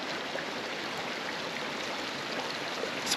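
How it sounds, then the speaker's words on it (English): Running water from a stream on a green hiking trail near Payson, Arizona, a steady broadband rush that stays even and continuous throughout, with no talking over it. "You have the running water, you have so much greenery because of the water"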